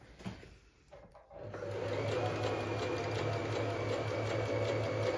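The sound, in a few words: Pfaff smarter 140s sewing machine sewing zigzag stitch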